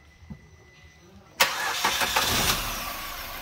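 A used car's engine in a showroom cranks and catches with a sharp start, then settles into a steady, close idle that continues to the end.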